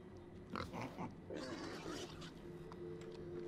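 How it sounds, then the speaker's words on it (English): Pig in The Outer Worlds grunting and oinking in a few short bursts over a low ambient game background, fairly close, with no talk. "Another pig."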